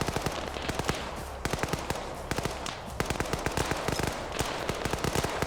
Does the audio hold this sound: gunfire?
yes